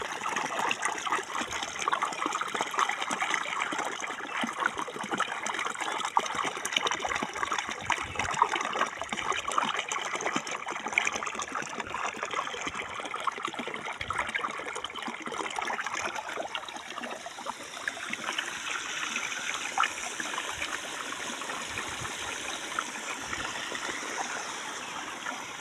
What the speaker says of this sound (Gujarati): આપણે મોટર ચાલુ થઈ જાય છે અને આ પાણી આવી રહ્યું છે, અને જો કુંડી ભરાવાની જઈ રહી છે